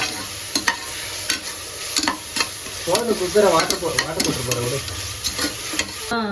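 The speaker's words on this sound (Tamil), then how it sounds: "என் மிளகா எண்ணெயிலே போட்டுருவோம்" Chillies sizzle in hot oil for a restaurant-style chicken biryani, with a constant frying hiss broken by repeated clicks and scrapes from stirring, close and fairly loud.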